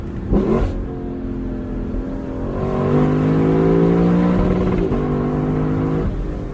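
Engine of a 2021 Lexus LC 500 Convertible revving hard, pitch climbing and holding against the rev limiter with a steady, loud, close howl that dips briefly near the end and rises again.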